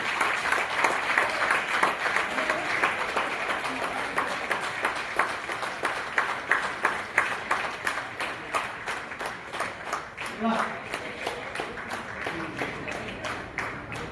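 Sustained applause from an audience at an awards ceremony honouring women achievers, dense steady clapping throughout with a few sharper claps standing out.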